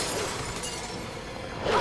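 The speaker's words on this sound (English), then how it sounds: "so as you can see, the dog's smashing out" Zombie dog smashing through a window in the Resident Evil REmake video game, a sustained glassy shattering crash with a burst of bright breaking shards near the end.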